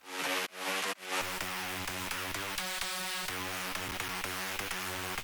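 A synth drop lead built in FL Studio, run through a bandpass filter, plays a steady harmonic melody for about five seconds with short gaps near the start, loud and alone with no voice.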